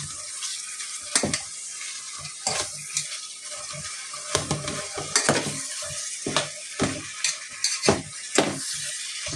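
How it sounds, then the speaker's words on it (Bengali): Vegetables with small kachki fish are stirred in a cooking pan with radish and flat beans, giving repeated scraping and clattering strokes over a soft, steady sizzle, close and moderately loud with no talking. "এবার হালকা নাড়িয়ে নিব।"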